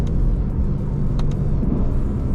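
A 2024 Lexus RC F Platinum with a 5.0 V8 downshifts in manual mode, a loud, steady, deep engine roar heard from inside the car with brief rev flares and no talking.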